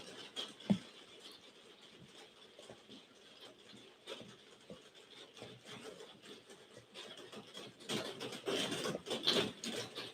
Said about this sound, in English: It's starting to rain, guys, really hard.